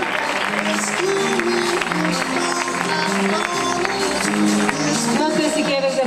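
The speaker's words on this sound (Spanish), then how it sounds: "Pues un aplauso para Azahara Muñoz" Steady applause from a crowd at a sports awards ceremony in San Pedro Alcántara fills the whole stretch, with loud voices and cheering mixed in.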